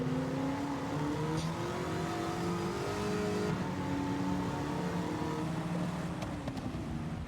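A car engine in the Gran Turismo racing game revs and drones continuously, its pitch rising and falling as the car accelerates and shifts, steady and fairly close with no talk over it.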